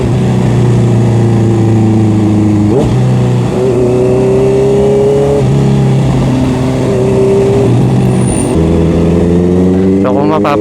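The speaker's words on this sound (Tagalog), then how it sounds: "medyo umingay ito sa ating CBR 650R" Honda CBR650R motorcycle with cut resonator, twisted elbow and carbon muffler revs and runs with a loud, steady exhaust note that rises and falls through the clip, with a sharp blip near the end.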